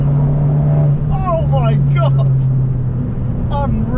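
A remapped Abarth 595 Competizione engine with aftermarket exhaust drones steadily at low pitch, close and loud, with voices talking over it in short bursts.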